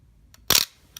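A Yashica Reflex 35 SLR film camera fires its shutter once, a sharp, close mechanical clack with a brief rattle, followed by a faint click.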